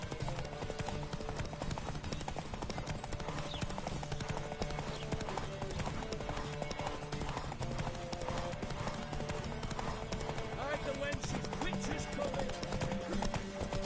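Roach, the horse in The Witcher video game, gallops with a steady, rapid clip-clop of hooves over game music and ambient sound, while a person talks over it intermittently.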